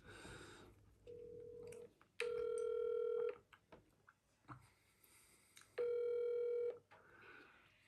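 A telephone being dialed, then a call ringing out, a short low tone followed by two long, loud ringback tones separated by quiet pauses, no clear speech.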